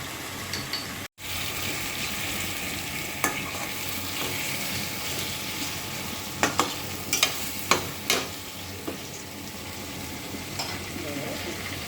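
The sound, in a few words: stirring sweet pumpkin frying in goat fat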